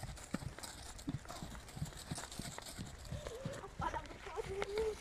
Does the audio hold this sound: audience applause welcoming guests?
no